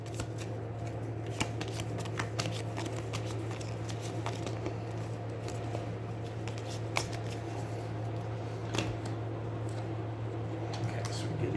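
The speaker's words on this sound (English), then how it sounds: "you shuffle the discarded Trogs back into the Trog deck" Game cards for Aeons End 2nd Edition are shuffled back into a deck, giving soft, continuous riffling and rustling up close at low volume with no voices.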